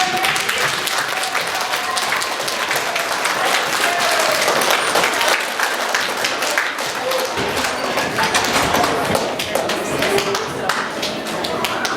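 Children applauding at a school character education assembly after a magician's show, a long, loud wash of many small hands clapping, sustained and dense with a few thumps and crowd voices underneath.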